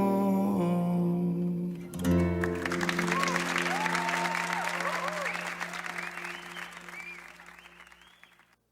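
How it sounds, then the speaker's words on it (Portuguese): A church congregation at a spiritual retreat bursts into sustained, hearty applause after a sung passage. The clapping fills the room and fades away near the end, with a voice speaking over it. "Vamos aplaudir a Jesus mais uma vez pela vida dessas crianças"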